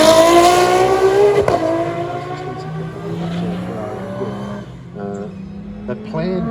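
A Ferrari F40 with a 3-litre twin turbo engine revs and pulls away at a motorsport festival, a loud engine roar that settles into a lower drone as it recedes, under a commentator's voice.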